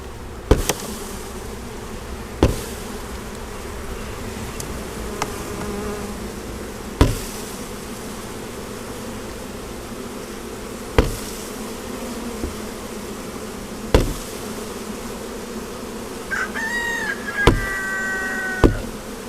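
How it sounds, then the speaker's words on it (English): Dense buzzing of many honeybees fills the air continuously during installation of a nucleus colony into a hive, punctuated by several sharp knocks spaced a few seconds apart, close by. "There's a lot of extra bees in this box"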